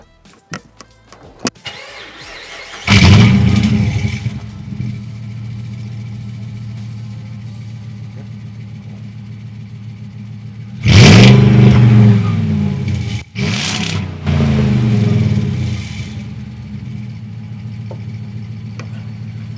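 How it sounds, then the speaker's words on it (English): A supercharged 1964 Dodge Power Wagon engine fires up loudly and settles to a steady idle, then revs hard in two strong bursts with a sustained supercharger whine, close and dominant. "Supercharger sounds crazy in there. Whine's really nice"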